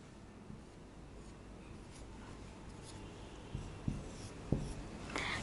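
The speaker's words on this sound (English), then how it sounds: "Take your paper and pencil, draw the house." A pencil draws a simple house on paper with quiet, close scratching strokes, faint and steady at first and then sharper, with a few louder scrapes toward the end.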